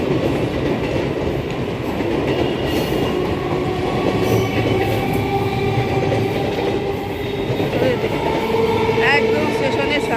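A train passes at a station with a steady heavy rumble and clatter of railroad cars, and faint wheel squeal rises near the end. It lasts about ten seconds, and voices talk under the noise.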